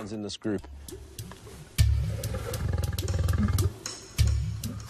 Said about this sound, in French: il se bat violemment avec les autres lions de cette troupe